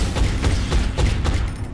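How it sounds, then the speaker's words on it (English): Rapid bursts of automatic gunfire in XCOM: Enemy Within, sharp repeated cracks over a low rumble, loud and close, a few volleys in quick succession with no talk. "it dies in a hail of gunfire"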